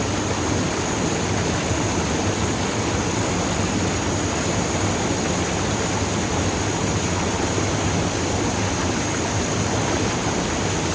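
Hòn Bà waterfall in Nha Trang, Vietnam, roars as a loud, steady rush of falling water, broad and unbroken for the whole stretch with no voices heard.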